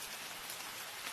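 Steady rain falls evenly, a soft dense hiss of drops with no pauses and no voices, heard fairly quietly throughout.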